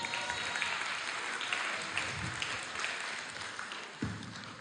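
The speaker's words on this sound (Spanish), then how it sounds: "Un aplauso para Ángel." An audience applauds steadily for several seconds, a dense even patter of clapping heard at moderate distance, fading slightly at the end.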